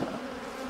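A crowd of honeybees drones close up while a hive is split to make a nuc, a thick continuous buzz filling the brief moment without talk.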